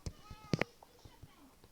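A pet cat gives a couple of short, close meows amid soft indoor shuffling and light handling noises, with a brief faint voice nearby.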